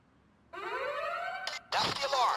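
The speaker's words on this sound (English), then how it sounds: "That's the alarm." A wailing alarm rises and holds during a bank heist in a video game, loud and continuous, with a brief break before a harsher burst of sound follows.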